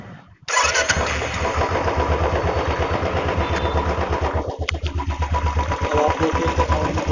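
A Royal Enfield Bullet motorcycle engine fires up after a brief silence and settles into a loud, steady idle, its rapid even thumping carrying on close by with a short dip in the middle.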